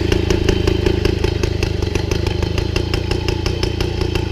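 A small Mobylette 51 moped engine idles steadily nearby, with a rapid, even putter and a faint metallic clatter throughout.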